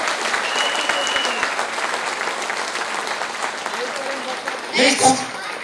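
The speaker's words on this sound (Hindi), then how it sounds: "जोरदार तालियां होना चाहिए, खड़ा होकर स्वागत होना चाहिए" Steady applause from a crowd at an agricultural seminar fills the whole stretch, dense clapping with a brief swell near the end.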